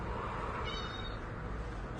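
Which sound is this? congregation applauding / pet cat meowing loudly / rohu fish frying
pet cat meowing loudly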